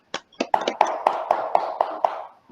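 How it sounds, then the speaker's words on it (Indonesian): Classroom clapping for a student group after its presentation: a handful of sharp, rhythmic hand claps in an even beat, close and fairly loud, with a faint voice in the background. "Mari kita tepuk tangan."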